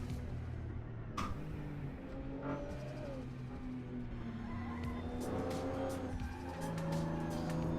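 A Porsche race car with a 3.3 litre engine of about 300 horsepower and a 4-speed manual races at Sebring. The engine drones steadily as the tires squeal and skid in repeated wavering chirps, moderately loud, without talk.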